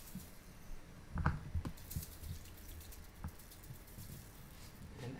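Water poured by the cupful into a baking dish of rice for a Mediterranean chicken and rice bake, soft close splashes and patters in a few short bursts, fairly quiet.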